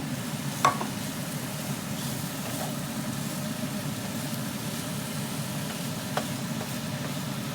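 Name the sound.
tomato added to pan, frying and stirring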